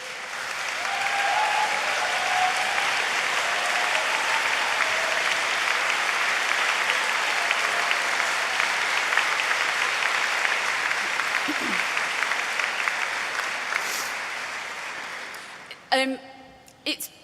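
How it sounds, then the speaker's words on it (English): Sustained applause from a large graduation ceremony crowd, steady and full for a long stretch before tapering off near the end. "give a round of applause to friends and family"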